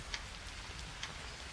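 Rain falls in the survival video game Green Hell as a faint, steady hiss, with a couple of light drop ticks and no voices over it.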